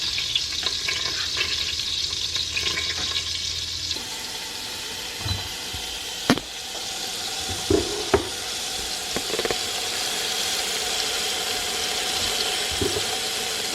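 Pork roast with a rub sears in an Instant Pot, a loud, steady sizzle and crackle close by, with a few sharp clacks and bumps partway through and no talking.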